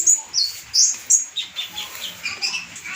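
A konin songbird chirps in a quick series of short, sharp, high-pitched notes, louder at the start and then trailing into softer twittering, heard clearly and alone with no talking.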